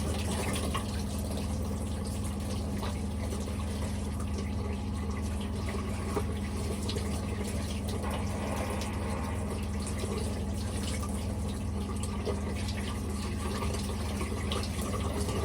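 A tap runs steadily as a soap bar is rinsed under it. Water pours as a continuous close rush, unbroken for the whole stretch with no talking.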